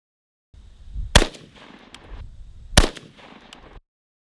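A CMMG MK IV AR-15 rifle chambered in .22 Nosler fires two loud, sharp shots about a second and a half apart, with low background noise between them.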